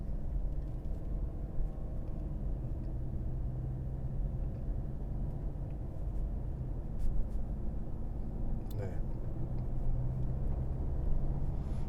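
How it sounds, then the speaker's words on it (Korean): A Mercedes-Benz GLC 300 4MATIC accelerates on the road, its engine revving as a steady, loud low rumble that holds throughout, with road and tyre noise mixed in and no talking. "자 다시 가속 페달 밟아서 RPM이 올라가고"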